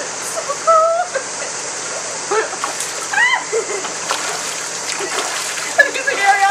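Children splash water in a small outdoor swimming pool, with repeated sloshing and splattering bursts close by, while their high voices chatter and squeal throughout.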